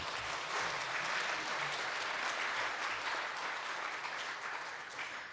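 A church congregation at a Sunday morning service applauds a member receiving an award for completing a 52-week Bible reading, with even, continuous clapping from many people that fades slightly near the end.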